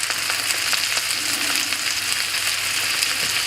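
Butter sizzles and fries in a pan with French toast, a dense, even crackling hiss that stays close and constant throughout with no voices.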